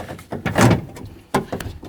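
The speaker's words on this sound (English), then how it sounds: "We're going to slide it up so these bolts line up with the holes, and then slide it into the door" A window regulator being slid into the door of a 1999-2007 Ford Super Duty F-250, heard as a few short scraping, knocking bumps of metal against the door panel, close by and with no talk.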